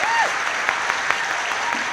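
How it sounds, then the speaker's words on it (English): An audience at a graduation celebration claps steadily for the year's graduates, a dense wash of applause with a few louder individual claps. "let's give our 2022 HandUp Graduates a great big round of applause"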